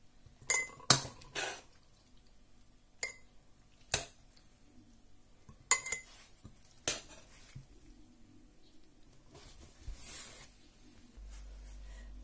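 Sharp glassy clinks and knocks of glass jars being filled with cherries, scattered irregularly with quiet pauses between, close by and without speech.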